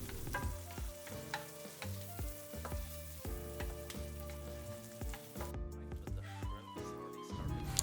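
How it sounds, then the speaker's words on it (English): Shrimp with lime juice sizzles as it is stir-fried in a pan for college dorm-style fried rice, a continuous close fry with repeated utensil scrapes and taps over a musical background. "give it a light stir fry"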